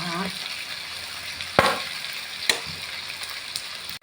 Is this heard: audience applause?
no